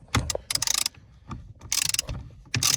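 Ratchet wrench tightening the steering wheel bolt on a BMW, heard as several close bursts of rapid metallic clicking separated by short pauses, with no talk.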